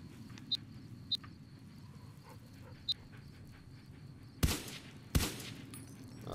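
Two loud gunshots at a backyard shooting range in the video game Fallout: New Vegas, following a few faint clicks over quiet background ambience, heard without speech.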